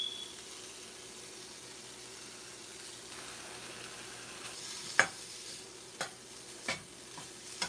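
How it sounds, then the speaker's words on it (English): Peppers and onions sizzle steadily in a pan at a quiet level, with a few sharp clinks and scrapes from stirring in the second half. "And you can hear that sizzle."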